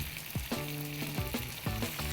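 Beef pieces fry in a pan for a tomato rice dish with grilled beef, giving a steady close sizzle and crackle broken by a few sharp stirring or scraping bursts.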